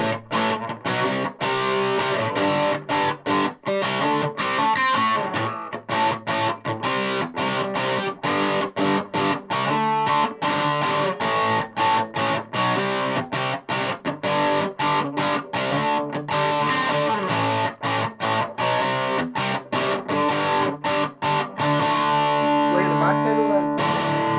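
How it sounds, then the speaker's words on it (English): A Washburn A10 Stage Series electric guitar through a distortion pedal plays loud, continuous chords and riffs, dense and gritty with quick rhythmic chops. "It was the first distortion pedal you could get"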